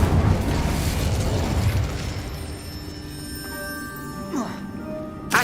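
A fire spell blast cast in Hogwarts Legacy, a burst of whooshing flame-like noise that rushes in strongly at the start and fades, followed by quieter magical shimmer and tonal ringing, with a brief swell near the end.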